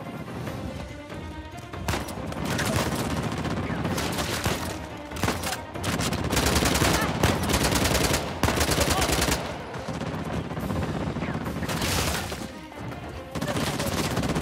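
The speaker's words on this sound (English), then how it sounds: "So we have our first truly intense gun battle here." Intense gun battle in Uncharted: The Lost Legacy, with heavy overlapping automatic fire, sharp shots and bursts in waves, loud and close throughout with no talk.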